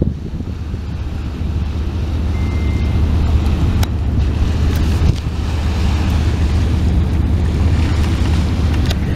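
A small jon boat's outboard motor drones steadily beneath heavy wind buffeting on the microphone, with a low continuous engine rumble close by, on Lake Michigan at 92nd Street, Chicago.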